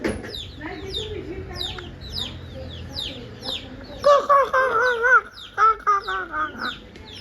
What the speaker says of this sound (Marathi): बघ कोंबडा आला बघ, कोंबडा आला बघ, आला बघ लगेच